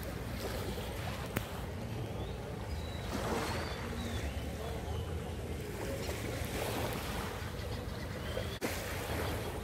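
Sea waves washing at Changi Beach while someone wades in the salt water, a steady soft wash and splash of shallow surf with faint sloshing and a couple of sharp knocks, moderately quiet and continuous.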